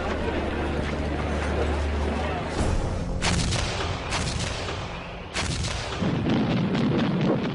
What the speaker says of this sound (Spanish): Los británicos se defendieron de este ataque con cañones antiaéreos, haciendo blanco en algunas bombas volantes y derribándolas.